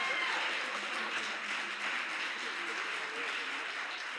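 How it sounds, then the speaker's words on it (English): A church congregation applauds a senior choir, a continuous wash of clapping and crowd noise through a livestreamed service, steady throughout with some voices mixed in. "Can you give this wonderful senior choir a round of applause?"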